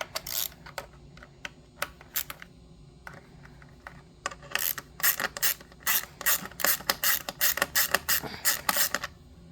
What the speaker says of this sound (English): take out these 3 bolts right here with an 8mm socket